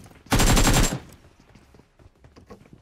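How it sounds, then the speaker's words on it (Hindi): A short, dense burst of rapid automatic gunfire in the mobile battle royale game Battlegrounds Mobile India, loud for about half a second, then fading to faint scattered shots and low game ambience. "चारों तरफ से इतने फुट्स और इतनी गोलियां चल रही थी"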